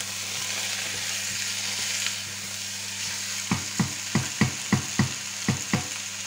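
Chopped onion frying in a pan, a soft steady sizzle broken in the second half by a run of sharp, regular scrapes and taps of a utensil stirring against the pan.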